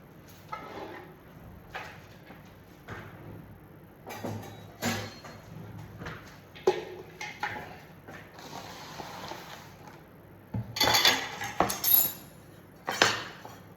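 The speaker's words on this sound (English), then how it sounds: "I need my cutting board and a knife." A cutting board and knife are pulled out in a kitchen, with scattered clatters, knocks and scrapes of utensils and wood coming at irregular moments, near and fairly quiet.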